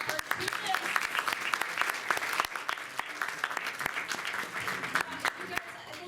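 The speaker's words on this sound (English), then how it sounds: "A round of applause, please, for our cartoonists." Audience at Rhode Island Comic Con QuickDraw applauding the cartoonists, a dense burst of clapping lasting about six seconds with sharp individual claps standing out, under light chatter.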